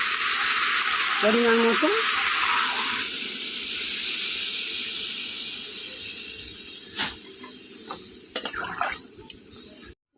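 Water poured into a frying Bengali curry of three vegetables with taro and green chilli sets off a loud, sustained sizzling hiss that slowly fades, with a voice speaking briefly over it.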